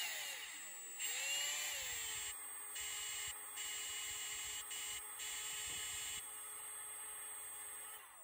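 A power drill bores into a VW Corrado G60 in a garage, giving a steady, close, high-pitched whine that briefly drops and surges in speed several times over about eight seconds.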